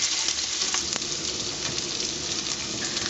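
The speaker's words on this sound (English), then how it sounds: "just keep whisking it till it gets nice and thick" Sauce being whisked in a hot pan over medium heat, a steady broadband sizzle with faint scraping strokes, close and continuous without a pause.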